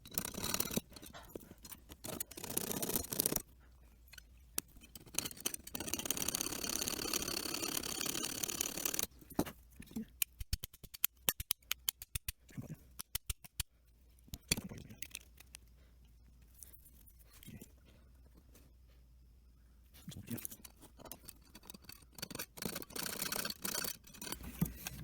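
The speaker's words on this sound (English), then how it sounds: "I'm using kind of a coarser tooth hacksaw here, and it kind of hangs up sometimes while trying to cut" Coarse-tooth hacksaw cutting through an old sealed bike pedal, with rough rasping back-and-forth strokes that hang up and stutter, then pause before resuming, close by.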